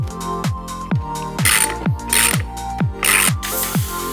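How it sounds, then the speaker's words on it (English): A tool ratchets as a mountain bike chainring is tightened: a loud, close run of regular clicking strokes, roughly two per second, each with a metallic whirr and brief pauses between pulls. "Tightening the chainring. Ended up getting the tool."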